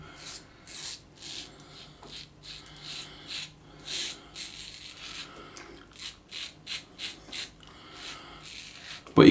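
A Swiss Shave Excalibur safety razor cutting stubble close up, with a run of short, crisp scraping strokes in a steady rhythm and quiet pauses between them, and no talk over it.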